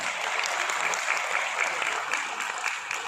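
Sustained audience applause at a political gathering with speeches, a dense steady wash of many hands clapping throughout at moderate loudness, no speech over it.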